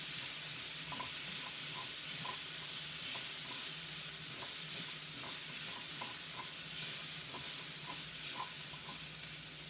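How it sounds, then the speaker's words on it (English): Chopped vegetables sweat gently in a pan for paella, giving a continuous close hiss and soft sizzle, with light scraping and tapping at irregular intervals and no voices. "just lightly sweat this, just get the vegetables to the point where they begin to wilt"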